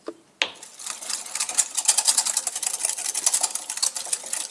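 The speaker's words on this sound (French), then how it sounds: "J'ajoute les graines de la vanille au jaune d'œuf, ici, et j'ajoute également la stevia. On va fouetter l'ensemble." A whisk beating egg yolks with vanilla seeds and stevia in a bowl, after a couple of initial taps, then fast rhythmic clicking whisk strokes that continue steadily and close up without talk.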